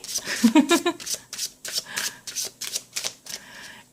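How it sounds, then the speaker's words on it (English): A deck of playing cards being riffle-shuffled by hand: a run of crisp, rapid fluttering bursts repeats in a quick rhythm, close and fairly quiet, with a brief voice near the start. "It's really hard to shuffle the cards while not looking at what you're doing, but let's try another riffle."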